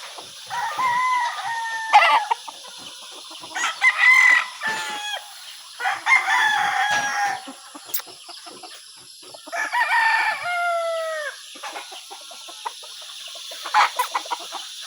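Several roosters crow in turn from a small backyard chicken coop, each call loud and near, with a few short clucks between the crows and no voices.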